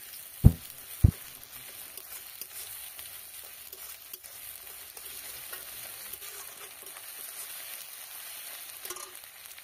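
Slit green chillies and garlic paste sauté in a pan for a bean mash, a soft steady sizzle with light stirring, opened by two sharp knocks of a utensil against the pan, fairly quiet and close.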